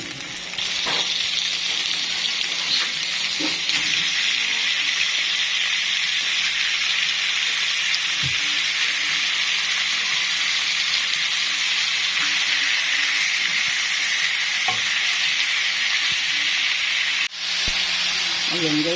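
Meat and tomatoes sizzling in a frying pan, a steady, even hiss that runs the whole time, with faint scraping and light clicks now and then.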